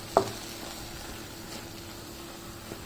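Tomatoes for a kadai paneer gravy simmer under a lid in a pan, giving a faint, steady low sizzle, opened by a soft click and with another light tap near the end; no voices.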